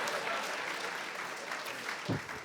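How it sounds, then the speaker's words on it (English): Audience applause at a business forum interview in Sri Lanka, a steady wash of clapping through the whole stretch, moderately distant and fairly quiet, with a brief louder thump near the end. "I find it very unwise to applaud before you've heard the line"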